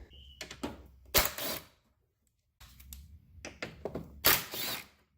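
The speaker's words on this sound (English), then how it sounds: "I'm going to use the impact with a 10mm" Two short bursts of an impact wrench with a 10mm socket rattling on a Subaru WRX during a coil pack change, each preceded by clicks and handling noise, separated by a brief silence, close by.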